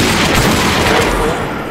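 Rapid bursts of gunfire crackle and boom continuously in Minecraft, loud and dense, with a rumbling low end throughout.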